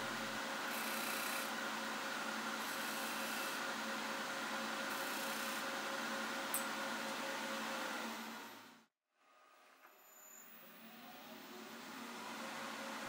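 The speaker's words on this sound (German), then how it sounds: "Der erste Einstich erfolgt mit der langen Spitze des Meißels möglichst exakt mittig zwischen den Linien." Skew chisel cutting a V-groove into a spinning wooden workpiece on a lathe, heard as a steady scraping rasp over the lathe's hum, which then cuts out abruptly as the machine stops.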